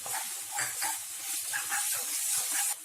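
Chopped green chilies hiss in hot oil in a pan, a steady bright sizzle with soft crackles throughout that cuts off near the end.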